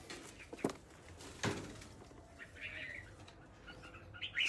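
A caged bird offered for sale at a bird market gives a few faint, scattered chirps and tweets, with a rustle or flap partway through and ambient background noise around them.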